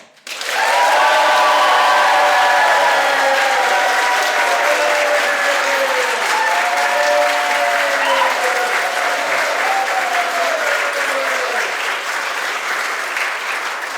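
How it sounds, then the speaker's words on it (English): Live audience at a recorded podcast event bursts into loud, sustained applause, with a few cheers, holding steady for over ten seconds. "Applaud now"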